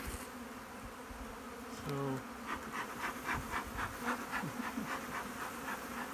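Honey bees buzz steadily around an open breeder hive, a close, dense drone that swells slightly partway through, with a brief spoken word near the start.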